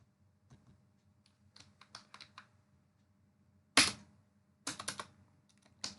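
Keys clack on a computer keyboard in short irregular runs, close and crisp, with sharper louder strikes near the end and quiet pauses between bursts.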